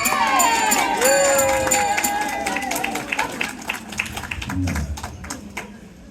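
A comedy show audience claps for the stage manager: dense applause up front under a talking host, thinning into scattered individual claps that fade out toward the end.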